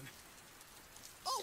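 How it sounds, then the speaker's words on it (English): Rain falls in a One Piece anime episode, a soft, even patter throughout at low level, with a brief louder burst near the end. "Ah, it's raining"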